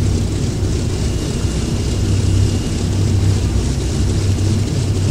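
A DC-3 airplane in a virtual reality flight game, preparing for takeoff at Hollywood Airport, gives a steady, loud propeller engine drone with a deep low rumble that holds evenly throughout, with no voices.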